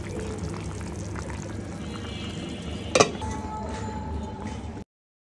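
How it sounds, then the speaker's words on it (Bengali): A pot of chickpeas set on a stove to boil, with a soft continuous liquid hiss and simmer and a single sharp metallic clink of the pot partway through, then abrupt silence. "আর আরেক চুলায় আমি এই যে ছোলা সিদ্ধ দিচ্ছি।"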